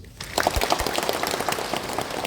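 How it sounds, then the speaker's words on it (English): An audience at a Baptist church devotional service in Dimapur breaks into applause after a short pause, a steady dense patter of many hands that stays even and fairly loud throughout. "let us give her a big round of applause"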